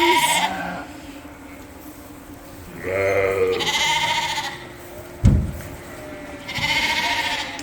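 Ewes and lambs in a pen on a sheep farm bleat repeatedly, several calls overlapping at close to middle distance, with a single short knock partway through and steady barn background.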